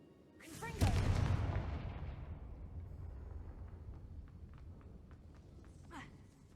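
A blasting spell in the Hogwarts Legacy video game sets off a deep booming explosion that hits hard early, then rumbles and crackles away for several seconds into fading debris sounds.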